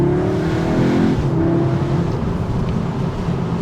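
A 2021 Audi S3 Sportback accelerating hard from inside the cabin, engine note climbing then dropping at a quick gear change, with a brief exhaust crack, loud and close throughout.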